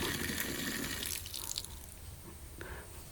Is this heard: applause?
no